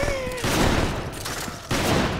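Gunfire in the video game Resident Evil 5, a loud burst of rapid shots after a short tonal game sound, then a second burst near the end, with no talk.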